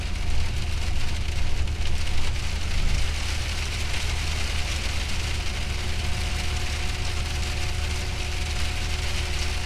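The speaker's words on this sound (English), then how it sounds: "It's even rain with pieces of snow." Steady rain mixed with pieces of snow pours down continuously in Turkey, a dense hiss with a low rumble underneath and no voices.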